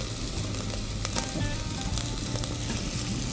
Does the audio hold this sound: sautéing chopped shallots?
yes